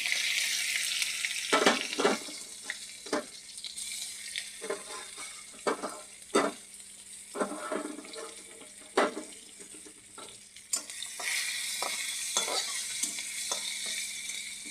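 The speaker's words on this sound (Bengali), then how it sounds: "ভালো মতন এটাকে ভাজে নেব।" Garlic and panch phoron spices sizzle in hot oil in a home kitchen, a steady bright frying hiss broken by repeated scraping stirs at an uneven pace, with a louder surge of sizzling toward the end.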